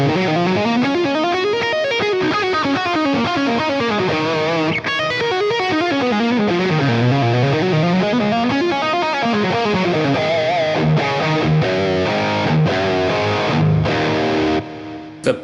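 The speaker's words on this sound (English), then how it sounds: "The big screaming lead tone." A screaming lead tone from a humbucker electric guitar, played through a Line 6 Helix with a glitz reverb at a low mix. It carries sustained, heavily distorted bends and sliding melodic runs, loud and alone, ending with a short pick noise.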